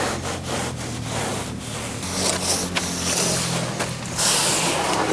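Steady, continuous abrasive rubbing of sanding on the metal body of a Ford Transit van, close and fairly loud, with brief pauses and surges in intensity.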